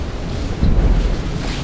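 Strong wind blows outdoors around a furnished house for sale in San Lorenzo Village, Cavite, buffeting the microphone as a steady low rumble that swells in the middle; no one speaks.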